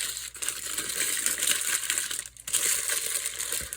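Tape being pulled and peeled off Power Rangers Lightning Collection figure packaging, a near, steady crinkly tearing and rustling that runs throughout with brief dips, no voices.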